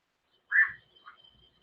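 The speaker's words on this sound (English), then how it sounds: "Hear a frog back over there." A single frog croaks outdoors in western Arkansas near Fort Smith, one short raspy call followed by a fainter second croak, somewhat distant against near silence.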